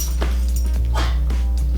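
A dog in a room gives several short, close yips and whimpering barks in quick succession over a steady low hum.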